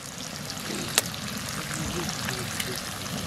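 Bait food sizzling as it fries in a pan at a fishing camp on the Danube near Vylkove, a steady close crackle with one sharp click, while people talk in the background.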